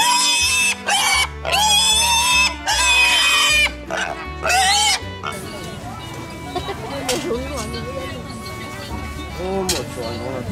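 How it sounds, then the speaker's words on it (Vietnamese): Black pigs at the Lùng Phình highland market in Lào Cai grunt and squeal loudly in several bursts, followed by busy market chatter and background noise as people talk nearby. "Giống lợn đen mà."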